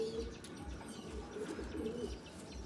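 A pet pigeon of a favorite fancy breed coos in a few low, repeated throaty pulses, faint and close, with light chirps around it.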